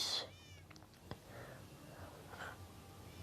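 Cats in the Minecraft video game give a short meow at the start, followed by a few faint, quieter sounds in a mostly hushed background.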